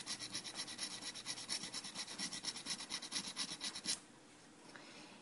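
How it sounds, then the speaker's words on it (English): A chipped ceramic piece being sanded by hand in quick, even back-and-forth rasping strokes, close and quiet, that stop abruptly near the end and leave faint room noise. "to be able to go ahead and sand it out to make it look a lot nicer than it was before when it got chipped"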